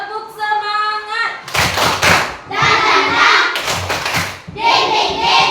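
A school class performs a rhythmic spirit clap led by their teacher: a voice chants first, then loud bursts of group clapping come in several timed blocks, close and energetic.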